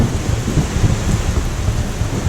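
Steady, dense rain pours on a rainy day in Florida, with a low rumble running beneath the continuous hiss throughout.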